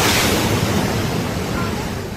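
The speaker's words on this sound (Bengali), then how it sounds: "সৃষ্ট নিম্নচাপের কারণে উত্তাল হয়েছে বঙ্গোপসাগর" Rough sea whipped up by a low-pressure system in the Bay of Bengal at Cox's Bazar, amid heavy rain and strong wind. A loud, broad roar of surf and wind buffeting the microphone fills the moment and eases slightly toward the end.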